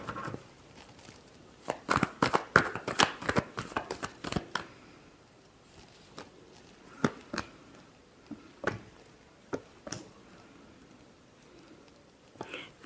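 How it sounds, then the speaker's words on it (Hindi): A deck of tarot cards is shuffled in quick riffling bursts for a few seconds, followed by scattered single card taps and flicks at a moderate, close distance with no talking. "Last shuffle."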